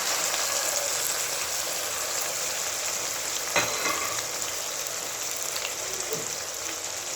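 Spice masala of onion, ginger-garlic paste, tomato and garam masala frying in a pan for mash daal, a steady broadband sizzle throughout with a brief stirring scrape near the middle, close and continuous.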